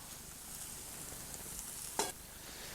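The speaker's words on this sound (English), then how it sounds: "we're just going to go ahead and let those simmer out" Cranberries and steamed carrots simmer in a pan with a faint, steady low sizzle, broken once by a single light clink near the end.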